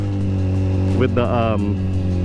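A 2008 Yamaha FZ1 motorcycle engine humming steadily, then rising briefly as the throttle is blipped before settling again, loud and close with someone talking over it.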